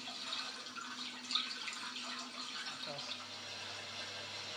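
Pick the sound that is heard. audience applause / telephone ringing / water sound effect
water sound effect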